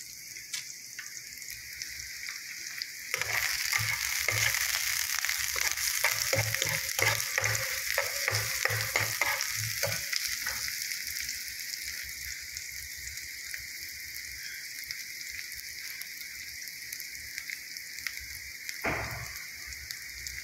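Garlic and onion fry in hot oil for pork adobo, a steady loud sizzle that swells when stirring starts, with scraping strokes of a spatula through the middle and a brief clatter near the end.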